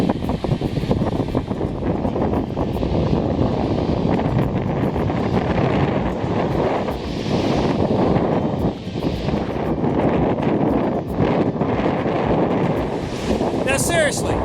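Strong October wind blows across a Lake Superior beach, roaring continuously against the microphone with waves surging in the background; a voice speaks briefly at the end.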